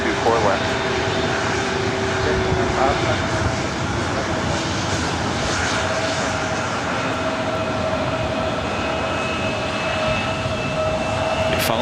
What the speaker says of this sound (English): These things are loud, heading to Albuquerque, Delta Connection, SkyWest, Flight 4091. It's an E175 LR.